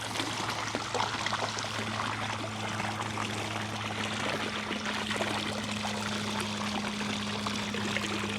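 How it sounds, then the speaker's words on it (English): Water pours steadily out of a rechargeable pool vacuum by a pool's steps, a continuous rushing stream with a steady low hum underneath, heard alone at close range. "See how much water's coming out of that now?"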